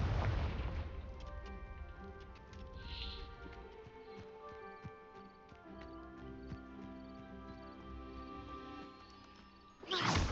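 A Confringo fire-blast spell in Hogwarts Legacy, a booming burst that opens loud, rumbles and crackles with tonal magic hum through the middle, then erupts in a second sharp blast at the end.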